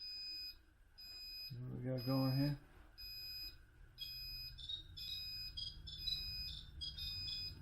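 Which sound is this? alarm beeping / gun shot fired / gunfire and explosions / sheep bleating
alarm beeping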